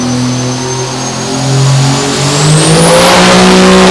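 A diesel truck engine revs hard on a dyno at a diesel performance competition, a loud, sustained roar that climbs steadily in pitch as RPM rises, with a turbo whine rising alongside it.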